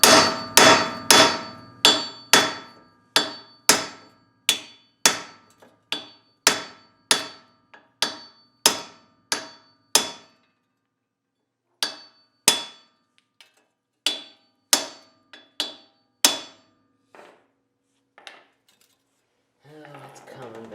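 Hammer blows tap metallic ball joint backing on a Jeep JK front axle, about twenty sharp strikes in steady rhythm with a few pauses, loud and close, fading to scattered softer knocks at the end.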